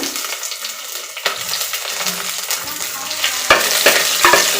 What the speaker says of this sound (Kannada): ಬೆಳ್ಳುಳ್ಳಿ ಒಂಚೂರು ಫ್ರೈ ಆಗೋದು ಒಂಚೂರು ಬಾಡಿಸ್ಕೊಳ್ಳೋಣ. ಹಾಗೆ ಹಸಿಮೆಣಸಿನ್ಕಾಯಿ ಹಾಕ್ಕೊಳ್ತಾ ಇದ್ದೀನಿ.